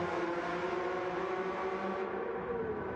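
Porsche Cup race cars battling side by side at Brands Hatch in a racing game, a dense steady engine roar with layered whining tones holding close and constant, easing slightly toward the end.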